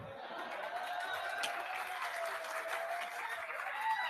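An audience claps in a faint, continuous patter of applause that holds steady throughout, heard from a distance with a low murmur of voices beneath it.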